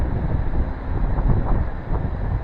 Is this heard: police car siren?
no